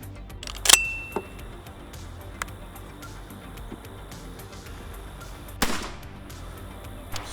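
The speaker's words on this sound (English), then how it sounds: "I'm not used to shooting a 12 gauge." A 12 gauge Winchester SX4 shotgun fitted with a choke is fired outdoors, and two sharp, loud blasts land about five seconds apart. Each one leaves a short decay over quiet background noise.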